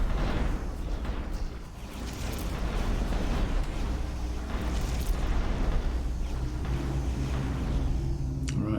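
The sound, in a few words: missiles and iron bombs exploding in a video game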